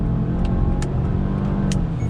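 A 2020 Subaru Legacy XT accelerates hard on throttle while merging, its engine a steady loud drone heard from inside the cabin, with a few faint ticks over it.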